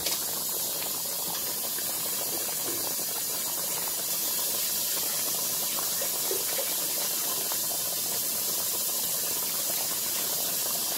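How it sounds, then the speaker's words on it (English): Water runs steadily into a pot with a continuous hissing, splashing wash, moderately close, without speech. "I'm going to add a little water."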